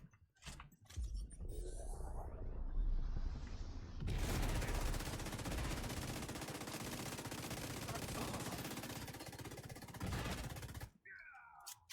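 Sustained automatic gunfire from the Division 2 video game, an LMG firing long dense bursts loud and close for several seconds after a brief lead-in of softer shots and movement, then stopping abruptly.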